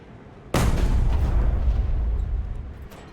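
A Jagdtiger tank's cannon firing at a battleship in a video game: one sudden loud boom that hits hard, then a long rumbling decay that fades out over a few seconds.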